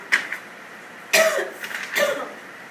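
Coughing from a person in a room, three separate sharp coughs close to the listener, a small one at the start followed by two louder bursts about a second apart, with no talk.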